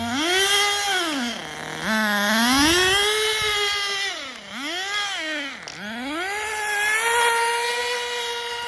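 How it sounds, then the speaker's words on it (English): A small homemade nitro RC car engine screams and revs up and down repeatedly, buzzing loudly and close by with wavering pitch. "How you guys like that for a homemade engine?"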